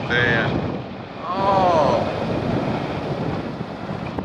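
Strong headwind buffets the microphone while riding an Evolve Bamboo Street GT electric skateboard on a road from Radviliškis to Šiauliai, a loud continuous roar with gusty swells, and a voice speaks briefly over it.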